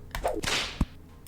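A quick whoosh of a whip swinging through the air, ending in a sharp crack, followed by a faint second swish.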